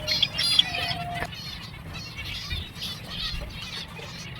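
Many finches and chicks chirp and twitter in a crowded breeding farm, a dense mesh of high, thin calls with a few brief wing flutters and a faint low hum beneath, steady and close throughout.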